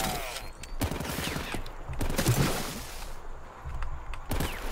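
Shotgun blasts in the shooter RAGE 2, with rapid booming discharges in quick bursts, loud and up close, alongside mechanical clatter and other gunfire.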